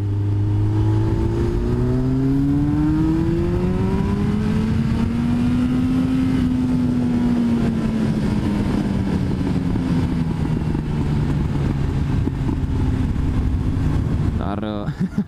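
A Yamaha XJR 1300 motorcycle engine revs loudly and steadily, its pitch rising and falling through gears, close by with a throaty exhaust roar throughout.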